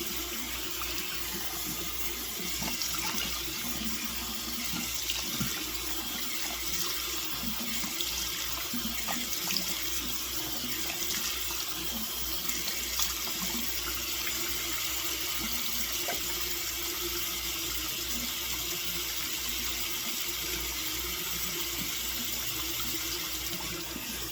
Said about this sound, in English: Rinse my hands off. And I'm going down to rinse.